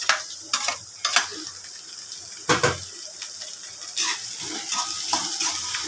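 Ginger, garlic and curry leaf paste sautéing in a pan for a Tamil narthangai theeyal, with soft sizzling and several sharp stirring scrapes and clatters at irregular intervals.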